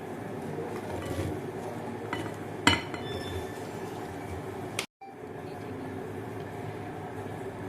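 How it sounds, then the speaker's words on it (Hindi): A spoon mixes fruit with sugar in a bowl for a fruit cream chaat with boiled macaroni. Two sharp metallic clinks ring out over a steady background hiss, with a brief dropout in between. "और अभी ये सारे फ्रूट्स हम इसमें मिक्स कर देंगे।"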